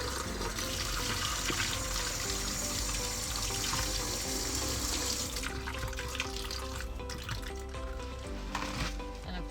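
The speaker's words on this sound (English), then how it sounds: "So I'm gonna rinse this off really quick." Running sink tap pours steadily over a paintbrush being rinsed during a home craft session, a continuous close splashing hiss of water that eases slightly toward the end.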